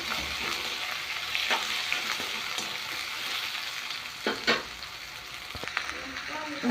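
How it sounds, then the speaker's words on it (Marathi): Pumpkin pieces stir-fried in a pan with curry leaves, giving a steady close sizzle with scattered scraping clicks of a spatula stirring, no voices. "त्याच्यामध्ये आपल्याला भोक्याच्या फोडी टाकून घ्यायच्या आहेत आणि हलवायचं आहे"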